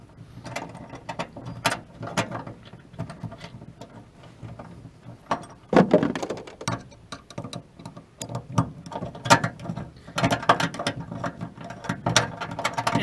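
Phillips head screw being driven during a bedcover install on a 2020 Chevy Silverado, with repeated ratcheting clicks and metallic rasps in uneven bursts, close and loud, with no talk.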